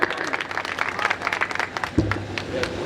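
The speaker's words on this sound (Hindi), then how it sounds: "भाई मनीष बैसवार जी के लिए जोरदार तालियां बजाएं।" Enthusiastic audience applause for poet Manish Baiswar at a Hindi kavi sammelan poetry gathering in Belhara, sustained dense clapping throughout with a lower hum entering near the end under the crowd.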